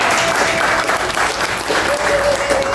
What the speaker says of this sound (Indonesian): terima kasih tepuk tangan semuanya